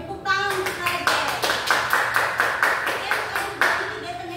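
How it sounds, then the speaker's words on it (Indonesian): A classroom of students claps in a steady, patterned rhythm of about a dozen sharp, evenly spaced beats, close and loud, after a brief spoken moment at the start. "tepuk tangan untuk kalian"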